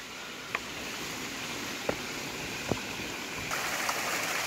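Small waterfalls beside a river among rice terraces pour as a steady broad rush, with a few sharp knocks and clicks standing out briefly over the constant water noise, and no voices.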